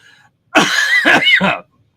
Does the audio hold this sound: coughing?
yes